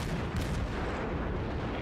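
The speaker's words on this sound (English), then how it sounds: "He's just blazing away with his cannons." Cannons of the battleship New York fire in World of Warships, a steady roar of overlapping booming blasts that fills the whole stretch without a pause, loud and close, with no talk over it.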